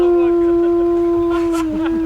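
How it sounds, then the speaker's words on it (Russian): A dog howls in one long sustained steady tone, close and loud, with faint voices and background noise underneath. "Даже собака воет."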